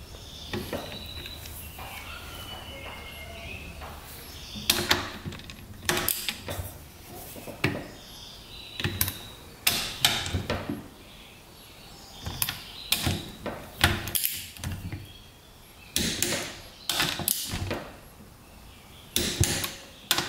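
A torque wrench tightening the cylinder head bolts on a rare two-stroke dirt bike to 18 foot-pounds, heard as close, repeated bursts of sharp metallic ratcheting clicks separated by short pauses over a low steady background hum.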